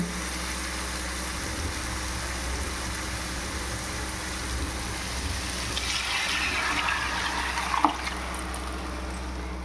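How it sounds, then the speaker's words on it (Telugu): Mutton stock pours steadily into a pot for biryani, a continuous gushing wash with a few clinks near the end, no talking. "మటన్ ఉడికిన నీళ్ళు ఇవి ఎత్తి అందులో వేసేసుకుందాం"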